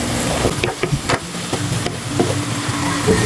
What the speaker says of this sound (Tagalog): Then, haluin lang natin ng very light.